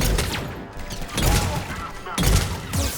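Crusader shotgun fire in Mass Effect 3: a few heavy, booming blasts spaced about a second apart, each with a rough tail, loud and close beneath a commentator's talking.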